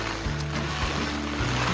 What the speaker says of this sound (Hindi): बारिश इतनी ज़्यादा तेज़ है ना, छतरी उड़ी उड़ी जा रही है